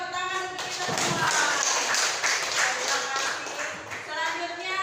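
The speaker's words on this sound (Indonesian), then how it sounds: "tepuk tangan untuk kita semua." Applause from an audience at a school teacher training session: a few seconds of steady, dense clapping, fairly loud, with no talk over it.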